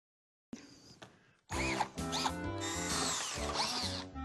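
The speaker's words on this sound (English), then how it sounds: "Everyone is having trouble controlling the drill with this slot head screw" A power drill whirs in a short burst, then runs longer with a rising, straining motor pitch as it drives a slot-head screw, close and loud.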